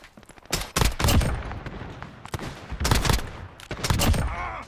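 Sniper rifle fire in the video game Modern Warfare, played in a hardcore lobby: several loud, sharp shots and bursts land in quick succession, close and punchy, with short gaps between them.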